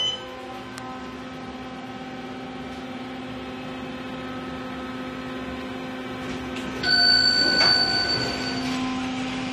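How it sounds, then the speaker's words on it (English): An Otis Series 5 hydraulic elevator at Dun Huang Plaza hums steadily with a low mechanical drone, then a bright arrival chime rings out clearly partway through and lingers over the hum. "We're gonna listen to that egg chime one more time."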